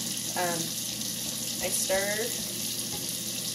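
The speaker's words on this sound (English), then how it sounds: "I usually leave the hot water running" Hot water streams steadily from a tap throughout, a continuous hiss with a couple of brief clinks and faint movement in the background.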